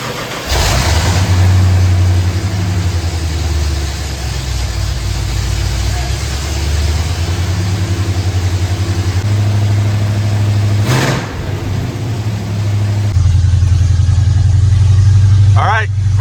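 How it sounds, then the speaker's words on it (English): An old Ford F-150 pickup, about 32 years old and left sitting for over ten years, runs steadily with a loud, close engine drone that swells briefly, while a person talks over it. "maybe fire it up and see how it runs"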